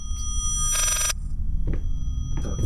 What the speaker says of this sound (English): It's a phone yeah, ringing.